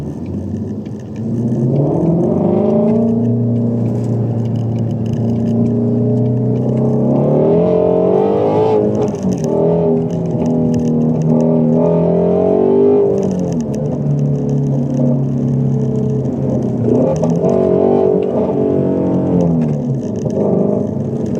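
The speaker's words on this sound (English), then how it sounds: "That's about as aggressive as I shift the car." Ford Mustang GT350 driving and shifting gears, the engine note rising through each gear then dropping at the shifts, loud and steady from inside the car, with no talking.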